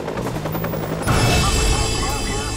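A helicopter roars loudly and continuously in the Watch Dogs video game, with gunfire mixed into the dense noise and a voice speaking underneath.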